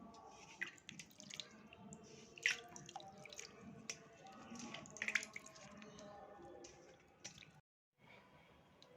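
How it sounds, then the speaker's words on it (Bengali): Soft, irregular water drips and trickles while a Krishna idol is bathed, faint and close, with small splashes and a brief silent gap near the end. "দেখো বন্ধুরা, আমার গোপসোনা কেমন করে চান করছে, দেখো।"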